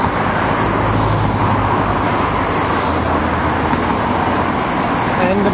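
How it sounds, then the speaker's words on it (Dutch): Steady, dense road traffic rumbles close by near the Palais des Papes in Avignon, a continuous broadband wash of car and bus engines with no pauses, loud and unbroken throughout. "Maar het verkeer hier word je helemaal gek van."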